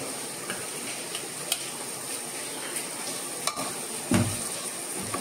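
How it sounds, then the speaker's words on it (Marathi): Chickpeas being stir-fried for misal, a continuous crackling sizzle broken by sharp clicks and scrapes of a spatula against the pan. "हे हरभरे आपण याच्यात घालून हे परतून घेणार आहोत"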